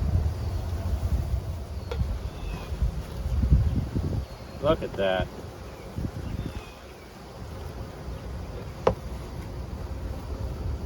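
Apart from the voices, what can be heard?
honey bees buzzing in a packed hive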